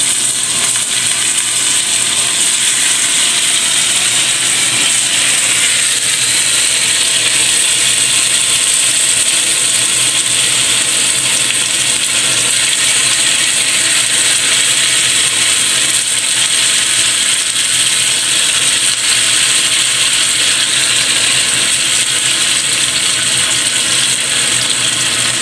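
Cubes of tofu frying in a pan of heated cooking oil give a steady, bright, continuous sizzle that stays close and even for the whole stretch, with no talking.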